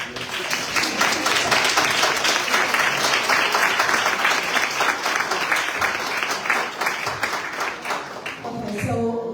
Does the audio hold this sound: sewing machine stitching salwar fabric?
no